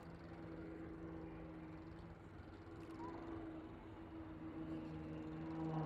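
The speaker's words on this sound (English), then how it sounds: "Now send you a small aircraft, 24 foot wingspan" A small 24-foot-wingspan display aircraft at the Waddington airshow drones steadily overhead with a powerful engine, a low sustained hum that swells slightly louder toward the end.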